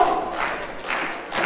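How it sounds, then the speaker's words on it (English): A pro wrestling crowd at a tag-team match cheers and roars in a dense, swelling wash of voices, rising in waves over a short burst. "Neal's trying to get the crowd behind QT Marshall"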